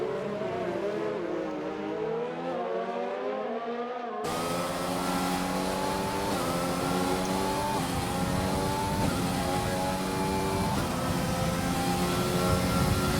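Race cars from a racing video game roar past in a Formula-style Australian Grand Prix, loud droning engines with layered rising and falling tones as the field crosses the line, one car's note shifting abruptly partway through.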